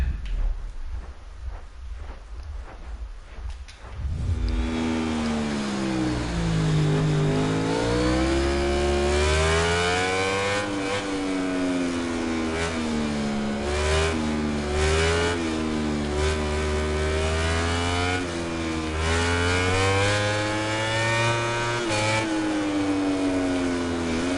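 A motorcycle engine in the racing game MotoGP 19 revs hard after a quieter opening, its loud, buzzing whine rising and falling steadily as the bike accelerates and shifts through gears.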